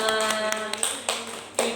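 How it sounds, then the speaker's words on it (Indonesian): Audience clapping at a religious storytelling session about Dhul Hijjah and sacrificial meat, a brief scatter of claps close by with a few sharper taps standing out. "Tepuk tangan dulu semua."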